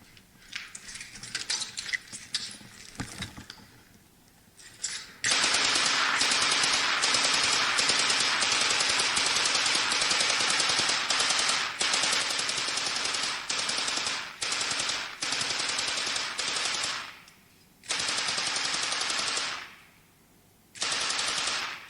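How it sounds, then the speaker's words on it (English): Ukrainian soldier firing a PKM machine gun and other weapons from a house in eastern Ukraine: loud, close sustained bursts of automatic fire with brief pauses, preceded by quieter mechanical handling. "Ukrainian soldier firing various weapons from a house in eastern Ukraine"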